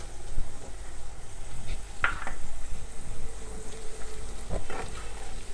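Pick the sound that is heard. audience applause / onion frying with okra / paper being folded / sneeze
onion frying with okra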